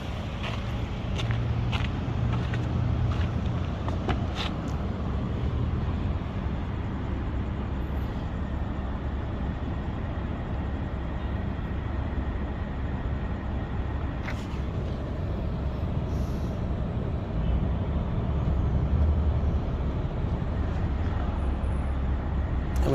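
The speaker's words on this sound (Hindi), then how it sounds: "अभी कंप्रेसर का क्लच काम कर रहा है, एसी भी ठंडा कर रहा है, कूलिंग बराबर आ रहा है।" A 2013 Lexus ES350 idles with its A/C compressor clutch engaged, giving a continuous low engine hum and broadband whir with a few faint clicks early on and no speech.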